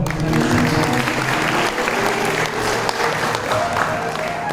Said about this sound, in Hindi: एक बार तालियों से बधाओ ना।